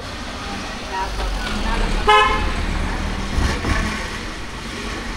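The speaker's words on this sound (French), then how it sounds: "Les gens pour passer, ils klaxonnent pour te prévenir qu'ils arrivent et pour que tu te pousses." A car horn toots once, short and nearby, amid the steady rumble of engines and traffic on a Kathmandu street, with people talking over the noise.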